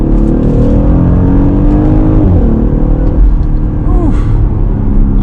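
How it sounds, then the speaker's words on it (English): A 2021 Audi SQ5 engine pulls hard in dynamic mode, a loud, close, continuous rumbling drone with pitch sweeps as gears change and a brief burble on the downshift. "Right when it shifts, you hear a little bit of burble and it just sounds so good"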